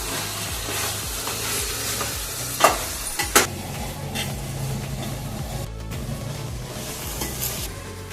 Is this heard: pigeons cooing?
no